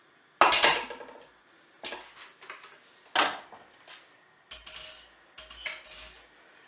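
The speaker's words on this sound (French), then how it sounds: "Et je les remets à nouveau dans ma poêle." Mushrooms tipped back into a metal frying pan give several sharp clattering knocks and scrapes at irregular intervals, close and fairly loud, with no voice.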